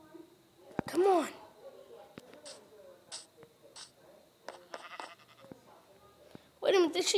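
A video-game sheep bleats twice, near and clear, once early and once at the end, with sparse clicks and game sounds in between.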